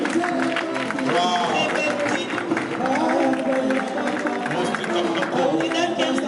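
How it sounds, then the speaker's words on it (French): Audience applause and cheering at an evening gala show in a hotel, a busy crowd roar with voices talking and exclaiming over it throughout. "On l'accueille avec des applaudissements, s'il vous plaît."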